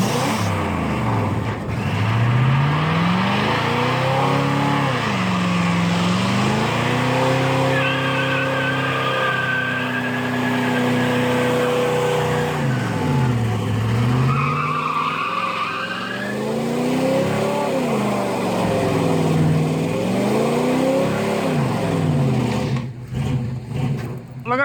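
A Cummins diesel truck does a one-tire burnout, its tire squealing loudly and continuously while the engine revs rise and fall in long sweeps, close and sustained, with a voice briefly heard.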